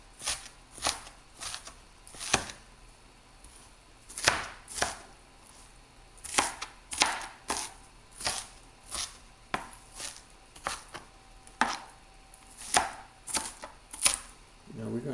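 A knife chops a couple of small-to-medium onions on a cutting board, giving a steady run of sharp, close, distinct thunks at an irregular rhythm throughout, with no talk.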